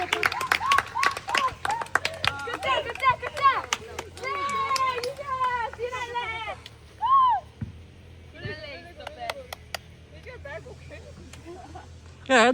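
Children clapping during an outdoor exercise and football period, bursts of sharp, quick hand claps mixed with excited kids' voices and shouts, close and fairly loud, fading to sparse sounds near the end.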